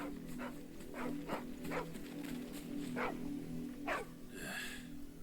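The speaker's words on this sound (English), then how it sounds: "Now we've got a barking dog." In Final Fantasy XVI, a dog barks in about six separate short barks spaced roughly a second apart, moderately loud over a steady low game ambience.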